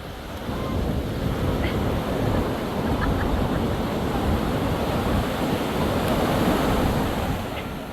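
Sea waves roll and wash onto Puri beach in a steady, broad surf roar that swells gently and fades slightly at the end, heard alone without voices.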